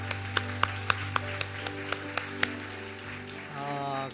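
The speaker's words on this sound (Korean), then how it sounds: "우리 하나님께 감사와 영광과 박수를 드리겠습니다." Church congregation clapping in a steady rhythm, about ten sharp claps spaced evenly over sustained keyboard or organ tones, with the music carrying on alone at the end.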